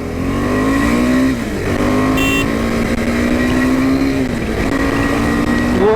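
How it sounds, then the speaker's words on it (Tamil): KTM 390 Adventure motorcycle engine on a test ride, a steady loud drone with rising and falling pitch as it revs and shifts through gears, continuous throughout with no talking. "நம்ம 390 வந்து இப்போ டெஸ்ட் பண்ண போகிறோம்."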